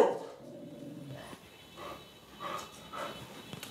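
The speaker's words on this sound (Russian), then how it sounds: "собака, которая проходит, гавкает" A dog walking past gives faint, scattered barks and yips that sound distant and low against a quiet room background.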